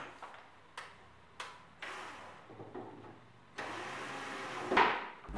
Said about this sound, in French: On visse maintenant les plaques de médium sur les montants que l'on vient d'installer.